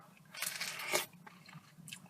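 Crunchy bites and chewing on seeded fruit, close and fairly quiet, with a couple of sharper crunches standing out from soft mouth noise and no talking.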